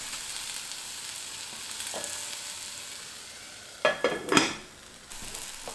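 Vegetables sizzle and fry in a pan for a high-protein breakfast, a steady faint crackle with a few louder clinks and stirring bursts near the end.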